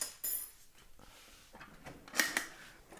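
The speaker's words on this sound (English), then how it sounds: "if I have only a can opener, I very carefully pry up on the edge" A can opener pries up the edge of a metal nut-can lid, giving a few faint scrapes followed by a sharp metallic clink and rattle near the end, close and quiet.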